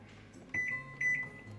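Microwave oven heating an Oreo mug cake, a low steady hum from the running appliance with two short high beeps sounding close together partway through, fairly quiet and with no talking.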